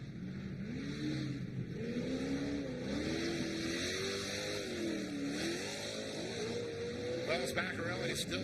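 Short course race car engines roaring and revving at the Great American Short Course in Victorville, rising and falling pitch as the cars run, steady and loud, with commentary talk over them.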